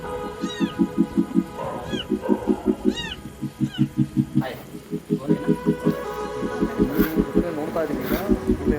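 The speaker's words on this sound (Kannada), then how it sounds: "ಈ ಹಿಂಗುಂಡಿನಲ್ಲಿ ಇವಾಗ ಒಂದು ಬೆಕ್ಕಿನ ಮರಿದು ಒಂದು ಇಲ್ಲಿ ಶಬ್ದ ಬರ್ತಾ ಇದೆ." A kitten trapped in a rainwater harvesting pipe pit meows repeatedly in high rising cries. The calls come in quick bursts over a rhythmic background chirring and are joined by people talking nearby.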